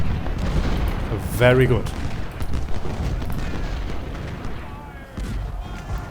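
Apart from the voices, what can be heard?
gunfire and artillery fire in video game Ultimate General: Civil War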